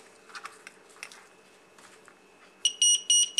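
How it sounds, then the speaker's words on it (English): Battery disconnect alarm on a BEC power distributor (PDP): a few soft clicks and handling taps, then three loud, piercing electronic beeps in quick succession close to the microphone. "Alarm goes off."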